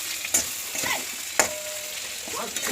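Chicken with turmeric, chili powder, salt and ginger-garlic paste sautés in a pan, a soft sizzle broken by a few sharp spoon scrapes and clinks as it is stirred.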